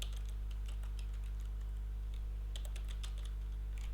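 Keys clatter on a computer keyboard in quick, irregular bursts with short pauses, close and fairly quiet over a constant low electrical hum.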